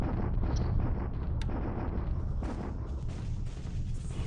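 Naval bombardment in the War in the Pacific Admiral Edition wargame, a continuous deep rumbling roar of shelling with dull booms rolling underneath, loud and sustained without talk.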